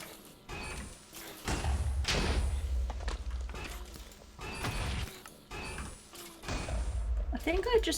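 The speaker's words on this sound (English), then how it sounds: "I think I just find the explosion sounds really satisfying" Explosions in the Minecraft video game go off as several heavy, booming thuds and crashes spread across the stretch, each dying away into quieter rumble, with voices talking between and over them.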